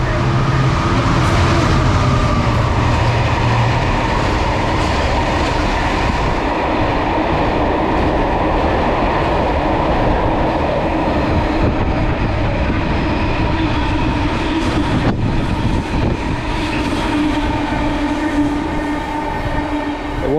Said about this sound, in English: It was 66623, which is one of the Jaffa Cake locos, Jaffa Cake freight liners.